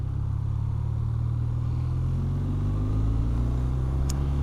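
A 2026 BMW R 12 G/S motorcycle riding along steadily, its engine a low, even drone under continuous road and wind rumble with no speech.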